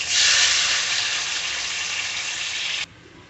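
Chopped tomatoes go into hot oil and sizzle loudly at first, then hiss on steadily before the frying sound drops away abruptly near the end.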